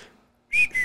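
A person whistles two short clear notes close by after a faint murmur, the second note slightly lower, with no talking over them.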